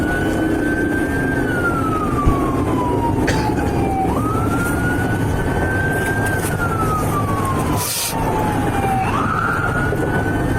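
A private EMS ambulance siren wails, rising and falling in long sweeps over steady engine rumble, loud and close, with a brief burst of noise partway through.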